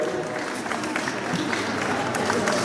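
A crowd claps steadily at a concert in the Citypark shopping centre in Ljubljana, Slovenia, a dense wash of hands from the audience at a Women's Day show, with a voice speaking over it.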